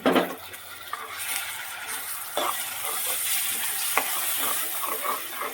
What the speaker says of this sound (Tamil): நல்லா எண்ணெய் பிரிகிற அளவுக்கு வதக்குங்க